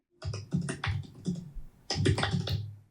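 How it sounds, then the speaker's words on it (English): Rapid typewriter typing in two bursts, clicks clattering close and loud with a short pause between them. "So we should hear this typing sound effect at this point."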